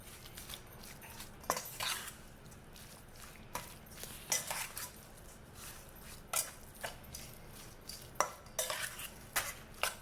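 Chicken boti kabob marinade, made with chili powder and red food colour, is mixed in a bowl. A spoon scrapes and taps the bowl in scattered bursts over about ten seconds of quiet, close stirring, with no talking.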